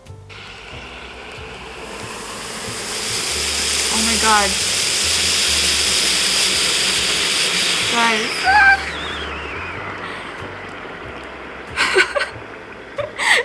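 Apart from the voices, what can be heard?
spicy food bubbling in covered self-heating container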